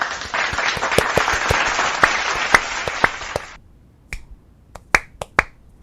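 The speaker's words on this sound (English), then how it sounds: "Let's give a big round of applause to everyone in the chat" A streamer claps hands over a dense stretch of applause for about three and a half seconds. The background cheering stops abruptly, and a handful of sharp, close single claps continue alone afterward.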